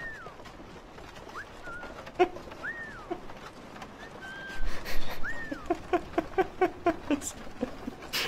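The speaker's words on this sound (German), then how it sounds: "Kommt aus dem Wagen so ein Vogelgeräusch" A bird coos and whistles from a cart in the Assassin's Creed 3 video game, repeated rising calls followed by a run of rhythmic pulsing coos near the end.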